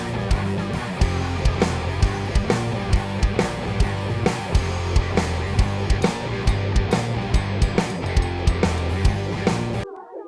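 A vocal passage in Pro Tools with a delay effect and raised feedback plays as dense music with a steady beat, echoes trailing and repeating over the track before it cuts to near silence at the end.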